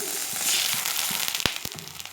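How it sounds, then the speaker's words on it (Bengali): Water poured onto tempering spices in hot oil sets off a loud, dense burst of hissing and crackling, with sharp pops near the end, close up and with no speech. "আর অল্প পরিমাণে একটু জল দিয়ে দিব যাতে ফোড়নটা না পুড়ে যায়।"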